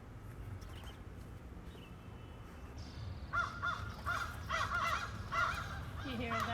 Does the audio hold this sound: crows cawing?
yes